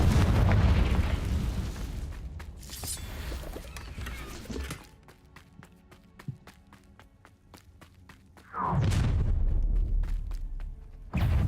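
Fiery blasts from a Confringo spell in a wizard video game: a loud, rumbling burst up front, a quieter stretch of small crackles and pops, then another heavy explosive roar near the end, with no talking.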